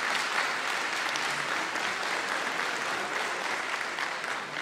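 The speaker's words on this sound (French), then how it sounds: "Vous pouvez les applaudir très très fort," Audience applause at the Miss Excellence Picardie beauty pageant election, a dense, steady wash of many hands clapping that holds evenly loud throughout with no clear speech.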